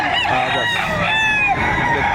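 Roosters crow loudly and close at a livestock auction market in Padre Garcia, Batangas, overlapping calls amid clucking fowl, with a voice briefly speaking.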